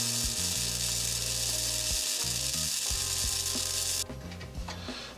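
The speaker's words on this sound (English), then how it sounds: "I should be able to weld all the way around it and then connect the two" Buzzing, crackling arc of a welder fusing a rear winch mount, a steady loud sizzle with harsh low hum that shifts pitch in stuttering segments, then drops quieter near the end.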